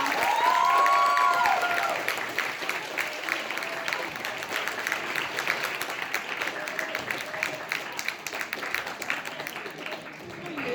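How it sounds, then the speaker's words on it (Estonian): Big round of applause from a crowd at a shadow-election press conference, loud at first with a shrill cheer, then settling into steady, dense clapping with scattered whoops throughout. "see tähendab, et suur aplaus"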